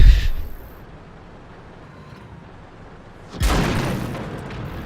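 A tank cannon in the World of Tanks video game fires twice: one heavy boom at the start fades out, then after a pause a second loud blast hits with a lingering rumble.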